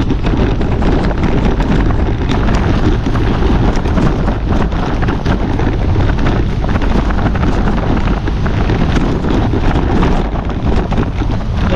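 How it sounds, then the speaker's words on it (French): Strong wind roars steadily into the microphone, a loud continuous buffeting rush with no pauses, close and overwhelming. "C'est usant ce vent."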